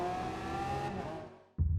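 A GMA T.50 supercar engine on the Lime Rock circuit in a Forza racing game drones at high revs, holding a steady tone then easing off before a low rumble kicks in at the end.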